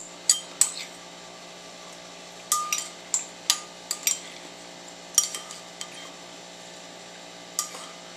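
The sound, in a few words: spoon digging into frozen watermelon sherbet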